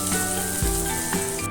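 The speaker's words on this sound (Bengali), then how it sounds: "নুন হলুদ দিয়ে এবার আমি আলুগুলো ভেজে নেব।" Potatoes fry in hot oil with salt and turmeric in a kadai, making a close, continuous sizzle with a couple of faint scraping stirs and no speech.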